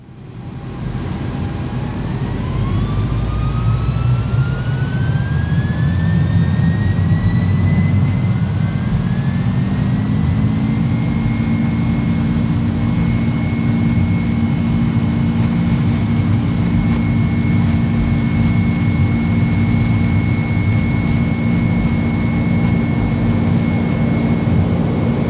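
An iniBuilds A300-600F freighter in a flight simulator spools up for takeoff as heard from the cockpit: a loud, continuous jet roar whose whine climbs over the first ten seconds, then holds steady and powerful without talk.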